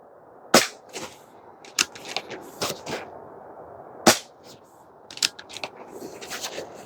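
A Hatsan Jet 2 PCP air pistol fires several sharp, close cracks at irregular intervals outdoors, with quieter clicks and faint rustling between shots.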